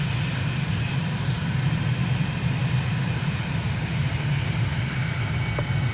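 A fixed-wing aircraft taxiing toward runway 03 at Ankara at dusk in Microsoft Flight Simulator, a steady loud engine drone with a low propeller rumble that holds unchanged throughout.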